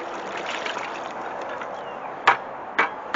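Water pours steadily into a tree planting hole with a soft, close trickling splash. Two sharp knocks break through near the end.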